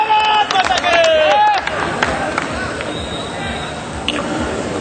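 Loud applause welcoming Narendra Modi at a rally: a voice rings out at first, then a broad, steady wash of clapping from a large crowd that continues to the end.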